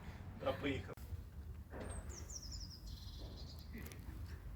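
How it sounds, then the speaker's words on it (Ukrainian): A voice speaks briefly, then a bird sings clear high whistling phrases over outdoor background noise. "Чуєте, як співають пташки?"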